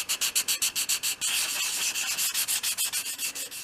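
500 grade sandpaper rubbing away excess filler on a 1/12th scale model shop project: fast, rhythmic back-and-forth strokes, then a stretch of steadier continuous scraping that breaks back into quick regular strokes, close and alone.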